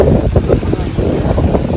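Loud, buffeting wind during rain, roaring across the microphone in a continuous rush, close and heavy.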